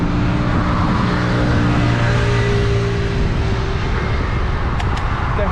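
A moped rides past on a bike lane in the Netherlands, its engine buzz loud and steady over heavy wind rush, with no one talking.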